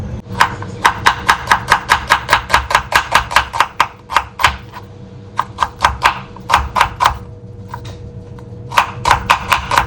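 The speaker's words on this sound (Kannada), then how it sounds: "ಈರುಳ್ಳಿ ಸ್ಲೈಸ್ ಕಟ್ ಮಾಡ್ಕೊಳ್ಳಿ" Rapid, even knife chops slicing an onion on a cutting board while preparing a fish pulimunchi curry, crisp and close, in quick bursts with brief pauses and no talking.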